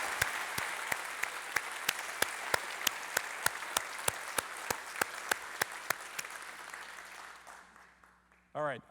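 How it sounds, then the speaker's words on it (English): Lecture hall audience applauding an astronomer at a university talk on the Rubin Observatory, sustained even clapping with distinct sharp claps standing out, tapering off before a brief voice at the end. "one huge round of applause for Željko"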